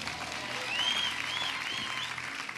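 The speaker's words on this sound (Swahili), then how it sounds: "hivyo mtumishi wa Bwana jipigie makofi" A church congregation at a Sunday service applauds in steady, sustained clapping. Faint whistle-like tones rise and fall over the clapping midway through.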